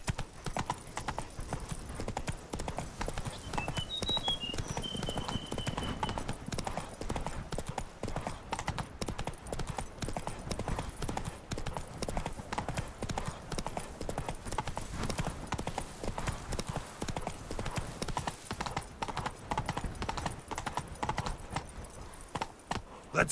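Horse hooves clip-clop in a fast, rhythmic gallop throughout this stretch of The Witcher 3, close and continuous with a brief whinny-like call early on.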